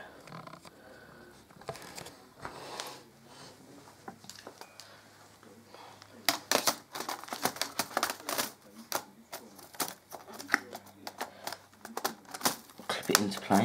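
A Dell E5400 laptop keyboard is fitted and pressed into place, giving a run of close, sharp plastic clicks and snaps that grow busier and louder in the second half, with faint handling rustle between.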